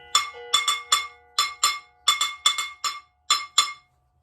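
A metal pot struck as a found-sound drum gives sharp, bright clanks in an uneven rhythm, about fourteen hits in quick pairs and singles, close and clear with nothing else behind them.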